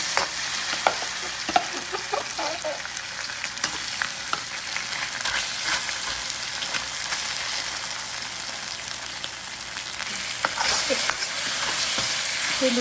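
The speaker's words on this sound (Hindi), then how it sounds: "और ये बीफ हमने मैरिनेट करके रखा हुआ है, इसको निकालेंगे और उसको फ्राई कर लेंगे।" Marinated beef stir-frying over high heat in a restaurant-style chilli beef dish, with a constant loud sizzle and intermittent scraping and clinking as the meat is tossed, with no talk.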